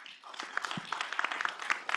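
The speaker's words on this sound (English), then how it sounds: "let's give her another round of applause" A workshop audience at a renewable energy session gives a short round of applause, sparse and fairly soft, with individual claps audible.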